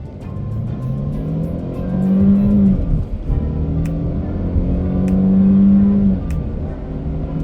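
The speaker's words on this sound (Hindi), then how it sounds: "देखते हैं कि ये गाड़ी कितनी देर में 100 हिट करती है" A 2020 Mercedes-Benz E180 Avantgarde sedan in sport mode accelerates hard from a standstill toward 100 km/h. The engine note climbs through two gear changes, loud and close, with no talking.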